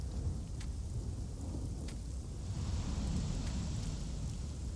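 Steady rain hisses with a low thunder rumble in Chronos: Before the Ashes, faint and continuous, with a couple of brief crackling streaks early on.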